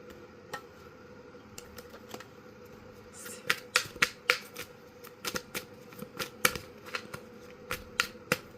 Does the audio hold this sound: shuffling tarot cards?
yes